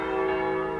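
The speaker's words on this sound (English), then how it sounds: "the bells of glory seem to be subsiding now" Church bells ring in a sustained, even wash of overlapping tones, a steady resonant hum with no separate strikes and no voices.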